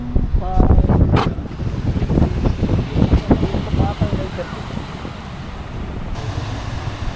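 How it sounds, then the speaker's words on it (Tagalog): Strong wind buffets the microphone while ocean waves wash in the background at Bagasbas Beach, Daet, Camarines Norte, with people talking briefly at the start. "sarap pakinggan ng alon Tapos ang lakas ng hangin"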